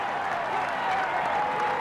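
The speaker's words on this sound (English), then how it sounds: "Look at the cheers now for Indurain." Roadside spectators at a Tour de France mountain climb cheering and clapping for Indurain, a dense, continuous roar of applause and shouting from a large crowd.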